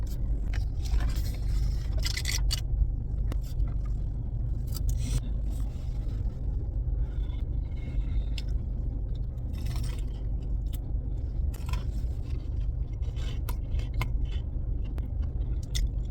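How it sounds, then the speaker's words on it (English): A car is driven out of the sun, heard from inside as a steady low engine rumble with scattered scrapes and jangling keys on top. "I'm gonna move my car."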